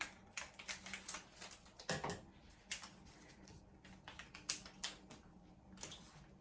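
Light crinkling and tapping of a small packet of starter culture and enzyme being opened for making halloumi cheese, a series of soft clicks and rustles close by, with a faint hum underneath.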